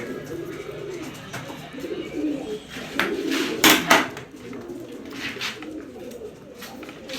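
Male Guldar pigeons coo in soft, repeated low calls close by, with light rustling and a few sharper clicks in the background.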